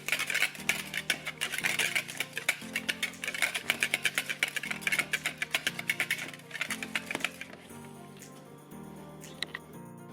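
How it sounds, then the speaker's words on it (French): A whisk beats egg with canned tuna in a bowl, quick rhythmic metallic clinks tapping fast and steady, then thinning out near the end, with faint background music. "je mélange mon œuf avec ma boîte de thon"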